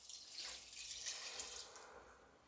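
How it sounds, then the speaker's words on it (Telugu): Water is poured into a pot of soaked rice and dal for khichdi, a soft, continuous stream of splashing that stays faint and even for a couple of seconds. "ఇంకా దీంతో పాటు దీంతో 4-5 గ్లాసుల నీళ్ళు అయితే వేసేద్దాం"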